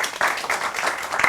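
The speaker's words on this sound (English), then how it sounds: "please give a warm round of applause for Frédérique" Audience at a talk on Japanese culture and philosophy gives a round of applause for the speaker, brief dense clapping from a small crowd, fairly close and steady.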